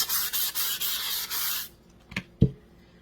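A tumbler is sanded by hand in quick, rhythmic rubbing strokes, a loud hissy scratch repeated about six times, then two sharp knocks as it is set down.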